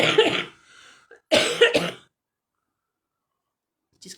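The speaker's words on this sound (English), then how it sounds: "Just clearing my throat there." A person clears their throat twice in quick succession, harsh rasping bursts close to the mic, the second pair louder and sharper, followed by near silence and a faint click at the end.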